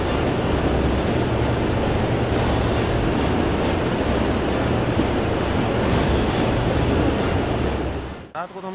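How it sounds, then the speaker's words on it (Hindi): The swollen, fast-flowing Bandal river rushes in a loud, constant roar of water that never lets up, until a sudden clatter at the very end. "उससे भी ज्यादा डराने वाली है इस नदी के बहने की आवाज"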